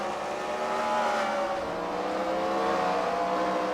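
Race cars at the CWRL Fight Night at the Freedom Factory, with a continuous loud engine roar holding steady across the short stretch, layered engine tones and no voices.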